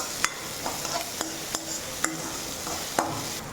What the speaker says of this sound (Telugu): ఇప్పుడు తరిగిన బీన్స్, క్యారెట్ ముక్కలు వేసి బాగా వేయించాలి.